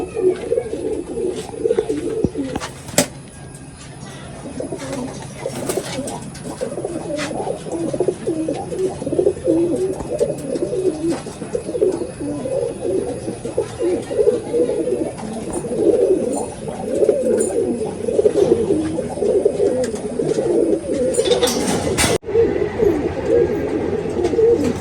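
Pigeons coo steadily in a loft, a throaty rolling murmur repeating throughout at moderate loudness, with a few sharp knocks and flutters along the way and no talk.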